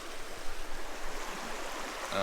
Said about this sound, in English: there's a cool little waterfall shooting down